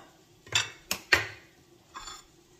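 A hot frying pan being handled with oil gives four sharp metallic clanks and scrapes, three close together and one after a short pause, in an otherwise quiet kitchen.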